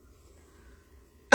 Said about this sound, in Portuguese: Me desculpe, tô com tosse.